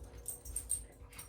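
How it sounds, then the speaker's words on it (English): Dogs whimper and yip softly in the background of an indoor room, several short, thin whines in quick succession, faint and somewhat distant. "sorry about the noise in the background. It's my dogs."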